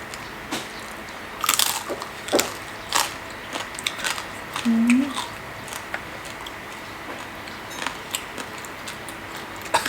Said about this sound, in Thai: หมูกรอบ มันกรอบ มันก็จะมีความกรอบอีกคนละแบบนะ กรอบไม่นุ่มนะ